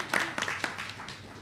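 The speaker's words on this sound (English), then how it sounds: "Let's give a round of applause" Audience applause at a live chess broadcast during the FIDE World Cup 2025, a short burst of clapping that fades over about a second, with voices mixed in.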